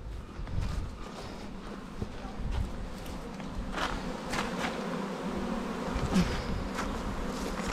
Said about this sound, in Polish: No niby pszczoły w stronę ula kierują.